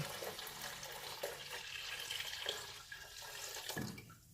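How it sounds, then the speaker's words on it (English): Cold spring water runs steadily into a container of brewed tea for kombucha, a soft continuous splashing and trickling, fairly quiet and close, with no voices. "1 more gallon of cold water into the 1 gallon of brewed tea"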